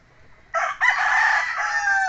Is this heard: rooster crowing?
yes